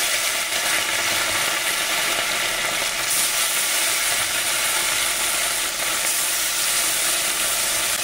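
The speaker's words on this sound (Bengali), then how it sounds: "এখানে বাটা মাছ ভেজে নিচ্ছি" Bata fish frying in very hot oil in a wok, a loud, steady, hissing sizzle with fine crackling throughout, close and unbroken, with no voices.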